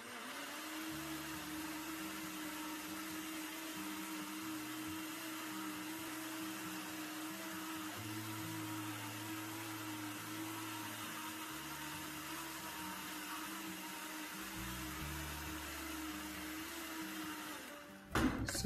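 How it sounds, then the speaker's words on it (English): A blender blending ginger and lemon runs steadily at close range for most of the stretch, a loud continuous motor whir with a brief clatter at the very end. "It's time to blend."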